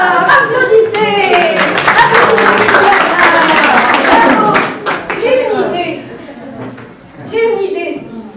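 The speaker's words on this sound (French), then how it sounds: "Applaudissez!" Children at a robotics workshop clap together in a loud, rapid burst that lasts several seconds, followed by excited kids' voices and a second, shorter patch of clapping.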